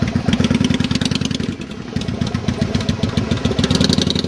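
A motorcycle engine, likely a Yamaha Virago, idles close by with a steady low throbbing beat on arrival at a pub during a Dartmoor group ride, loud and continuous with no talk.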